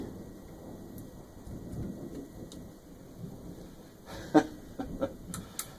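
Soft rain patters steadily while distant thunder rumbles low in the countryside, followed by a few sharp crackling bursts of a nearby lightning strike near the end.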